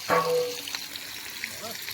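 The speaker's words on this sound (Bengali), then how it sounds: "এইটা হচ্ছে তোমার বিরিয়ানি হওয়ার জন্য মশলা কষছে আর এইটা হচ্ছে পকোড়া ভাজা" Spice masala for biryani and pakoras frying outdoors at a picnic cookout, giving a soft steady sizzle after a brief clank at the start, moderately quiet.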